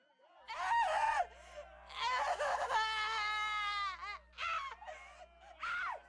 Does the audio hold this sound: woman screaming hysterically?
yes